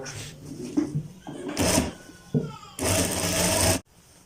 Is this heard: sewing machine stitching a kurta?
yes